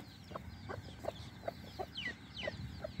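Hens in a shared coop nest giving a series of soft, evenly spaced clucks, fairly faint and close, with a couple of higher squawking calls mixed in.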